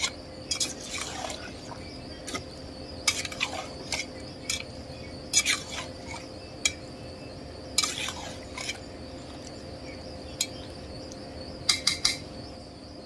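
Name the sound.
stirring beef curry in a cooking pot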